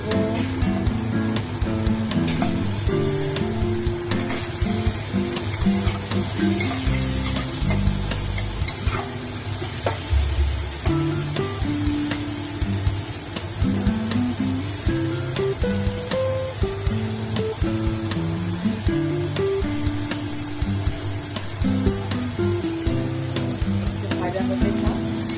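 Carrots, dried red chillies and peas sizzle steadily in a hot pan for an egg chow mein, with repeated scraping stirs and clinks throughout, loud and close with no talk.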